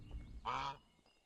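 A single loud honking quack rings out from a duck in a medieval farming game, nasal and close, rising out of quiet ambient noise for about a third of a second before fading.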